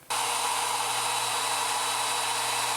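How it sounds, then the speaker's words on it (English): Blow dryer running steadily to warm epoxy resin on a fishing lure in a cold room, a loud continuous whooshing roar that switches on abruptly and holds close throughout. "It's still kind of cold in here, so I'm going to warm this up with the blow dryer as well."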